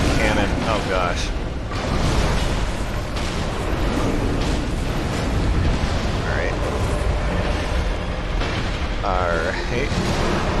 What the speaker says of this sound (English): And a cannon.